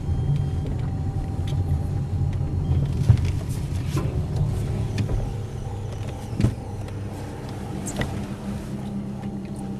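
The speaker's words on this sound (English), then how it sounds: "That's the noise you hear now is a vacuum pump for our vacuum brakes." A low steady mechanical hum of the vacuum pump for the vacuum brakes drones inside an Ampmobiles electric car, with faint rattles and a few soft clicks over the rumble.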